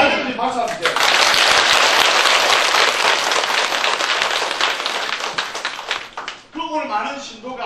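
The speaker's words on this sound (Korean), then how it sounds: "잘 됐는지 박수 한번 주세요." A crowd of worshippers at a Buddhist temple ceremony bursts into loud, dense applause lasting several seconds, with a voice speaking briefly before and after.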